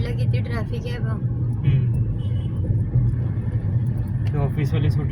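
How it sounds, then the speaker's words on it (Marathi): Road traffic near Nashik, a continuous low rumble of passing cars and heavier vehicles, heard beneath people talking throughout. "त्या साईडला किती ट्रॅफिक आहे बघ."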